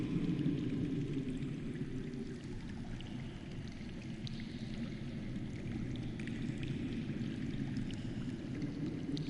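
Running water in a Game of Thrones Telltale game scene, a steady low rushing stream heard at a moderate distance, constant and unbroken with no talking.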